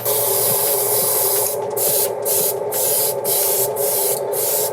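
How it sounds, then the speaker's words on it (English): An airbrush spraying neon green-yellow paint: a continuous close hiss of compressed air, broken by short regular pulses as the spray is triggered on and off, with no talk. "I kind of want to see what it looks like if I just airbrush some of this neon greeny yellow on top"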